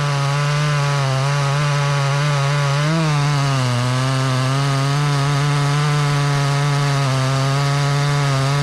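A chainsaw makes the down cut of an open-face hinge notch in a silver maple. Its engine holds a steady, close, high whine for the whole stretch, with slight dips in pitch as it bites into the wood. No one speaks.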